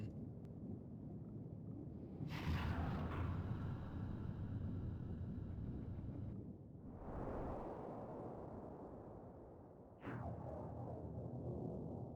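A giant torpedo explosion in the Ghost Trick video game, heard as a deep rumbling blast with a rushing whoosh that swells and cuts off abruptly, followed by another sudden roaring burst.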